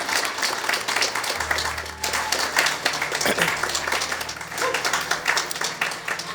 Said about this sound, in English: So I want to give all of you a round of applause.